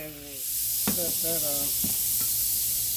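Salmon patties hit a hot pan and set off a loud, steady sizzle that continues throughout, with a few clinks and brief voice-like sounds near the start.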